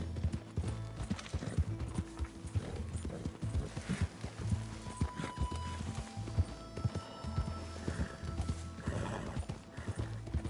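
Steady hoof clip-clop with occasional whinnies and snorts from a horse in Red Dead Redemption 2, set against a busy, dense background of ambient game noise.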